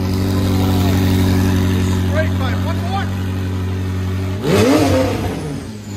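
A 2017 McLaren 570S with a 3.8-litre twin-turbo V8 and straight-pipe exhaust idles with a steady low drone, then gives one sharp, loud rev near the end before settling back down, with people talking nearby.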